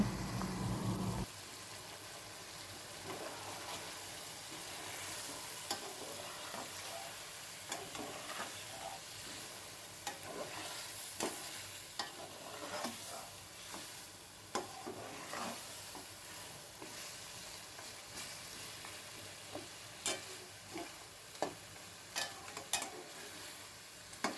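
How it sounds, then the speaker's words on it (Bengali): Meat braises with sour yogurt in a pot, stirred now and then between spells under a lid, for a Bangladeshi khichuri. A faint, continuous sizzle runs under repeated clinks and scrapes of stirring, with no talk. "এখন ঢাকনা দিয়ে ঢেকে মাংসটাকে ভালো মতো কষিয়ে নিচ্ছি"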